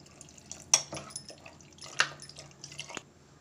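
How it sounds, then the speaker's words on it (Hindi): Water pours in short splashy bursts into a metal pressure cooker holding vegetables, with a few sharp clinks and drips between pours, close and fairly quiet. "थोड़ा सा इसमें हम पानी डालेंगे"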